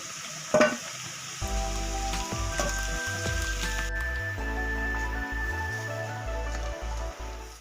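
Chicken pieces fry in hot oil for chicken perattu, a dense crackling sizzle with occasional stirring scrapes and clinks, heard close and fairly quiet, while a low hum switches on and off underneath.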